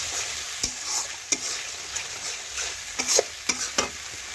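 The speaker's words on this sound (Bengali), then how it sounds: "এখন নাড়াচাড়া করে মিশিয়ে দেখুন মশলাটার কাঁচা গন্ধ চলে যাওয়া পর্যন্ত একটু" Masala for a jackfruit and prawn curry fries in a pan with added water, a continuous sizzle broken by sharp, irregular scraping stir strokes, several in quick succession near the end, heard close and alone.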